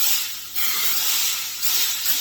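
Nonstick cooking spray hissing from a brand-new bottle while starting eggs for a loaded breakfast skillet: a close, steady airy hiss in two bursts, briefly dipping halfway through.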